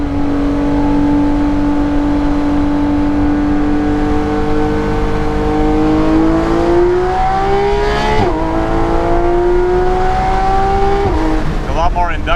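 Porsche 911 GT3 RS with its 4-liter engine revving hard, a loud, close, rising mechanical wail with strong induction roar that climbs steadily, dips and climbs again, alone without talk.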